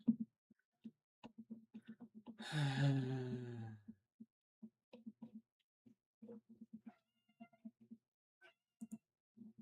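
A house cat lets out one drawn-out, fairly loud meow close by, against a quiet room with sparse clicks of computer keys or a mouse.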